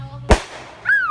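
A single sharp firework bang cracks out close and loud, followed by a rising whistling streak as another firework goes off.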